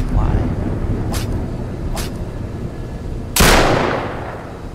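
Shotgun blasts from a tripwire trap in a horror video game, two sharp cracks followed by a louder booming shot with a lingering tail, heard close over steady background game noise.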